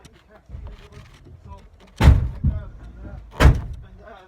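A back door swings shut with two solid thuds in a room where people talk, the impacts loud and close against the ongoing voices.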